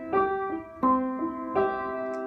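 Solo piano plays the opening of a song: three slow, sustained chords struck at even intervals, ringing clearly and close with no voice over them.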